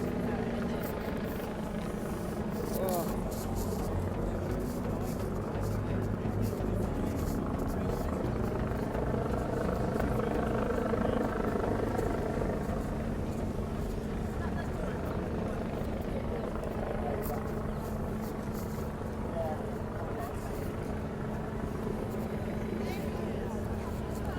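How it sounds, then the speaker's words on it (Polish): Helicopter flying over London during the 2023 coronation of King Charles, a steady droning engine rumble with low rotor thrum, continuous and fairly loud throughout amid crowd background noise. "Helikopter."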